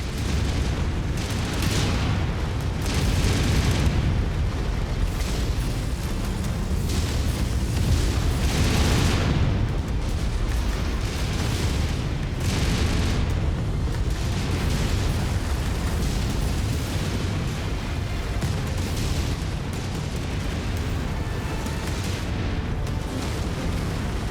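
A hostile forward operating base is blown apart in the MechWarrior video game, with continuous heavy booms, blasts and rumbling detonations that stay loud and close for the whole stretch and carry no speech.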